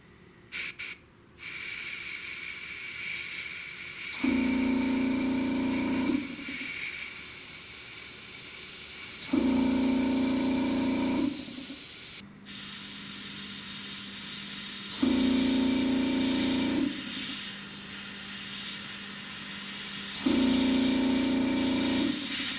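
An airbrush spraying Mr. Paint Glossy Sea Blue paint hisses in four steady bursts of a few seconds each, separated by pauses, with a faint background hum throughout.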